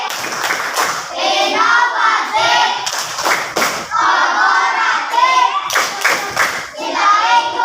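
A classroom of pupils claps a rhythmic spirit clap in Indonesia, bursts of sharp hand claps in patterned groups alternating with children chanting along, loud and close in a room.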